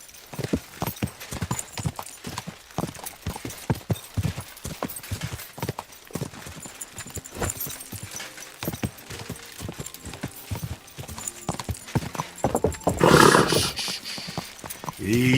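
Horse hooves clip-clop at a steady galloping rhythm throughout in Kingdom Come Deliverance 2, close and prominent, with a brief burst of louder noise near the end.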